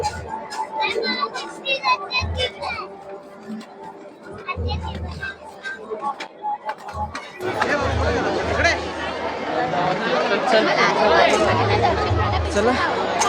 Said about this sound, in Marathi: दत्त जयंती निमित्ताने सानपाडे गावातील दत्त मंदिरात भाविकांची तुफान गर्दी